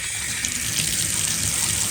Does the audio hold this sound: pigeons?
no